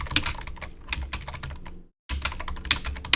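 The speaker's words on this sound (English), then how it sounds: "so apologize if I'm typing" Rapid, irregular clatter of typing on a computer keyboard, close and fairly loud, with a brief silent pause before the keystrokes resume.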